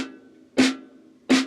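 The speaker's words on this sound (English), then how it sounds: "if you see 4 quarter notes written on the snare drum and you play them at this tempo" Snare drum quarter notes, two crisp hits about 0.7 seconds apart at a moderate tempo, close and alone, each strike with a brief ringing tone.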